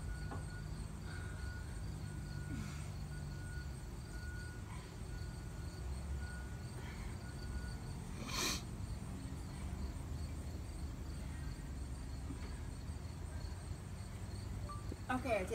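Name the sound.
crickets chirping during a total solar eclipse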